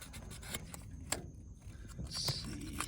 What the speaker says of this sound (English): I got a little piece of sandpaper. I'm just going to clean up the contact right here.